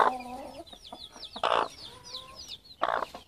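Nearby chicks peep in quick high chirps while a hen lets out a few louder throaty clucks, one at the start and two more spaced through the short stretch.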